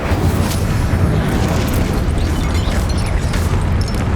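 A fire spell cast in Hogwarts Legacy, a loud, sustained roaring burst of flame with deep rumbling low end and crackling bursts throughout, alone without talk.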